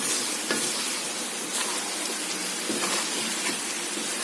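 Chicken kapitan curry simmering and bubbling in a wok, a steady soft sizzle with faint stirring scrapes, close and continuous with no talking.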